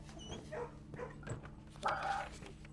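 A dog in the kennel room of the video game Blue Prince gives several short soft barks and yips spaced over a few seconds, heard under a low game music hum while someone talks.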